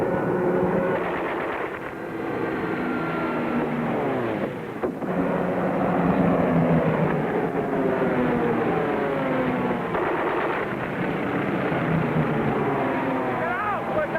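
Aircraft approaching in a radio drama about the submarine USS Cod, a loud sustained roar of droning engines with shifting, sweeping tones over about fourteen seconds, with voices speaking over it.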